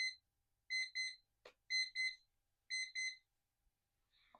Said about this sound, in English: sorry about the beep